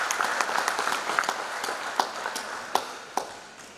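Audience applause as a guest is called to the stage at an event, a dense crowd of claps with a few sharp, louder individual claps standing out near the front, steady throughout.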